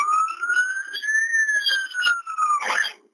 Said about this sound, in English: Ambulance has come